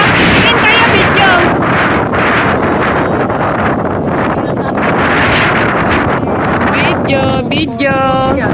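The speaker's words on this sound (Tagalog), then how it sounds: "Grabe yung hangin." Strong wind buffets the microphone in loud, continuous roaring gusts at an outdoor residential area, with people talking now and then underneath.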